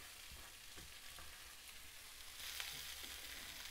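Chopped kale hitting a hot pan, a faint continuous sizzle that swells louder toward the end, with a few soft scrapes of stirring.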